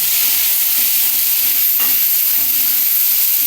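Vegetables with a little garlic frying in a pan on a winter afternoon, a steady broad sizzle with stirring scrapes running throughout, close and continuous with no talk.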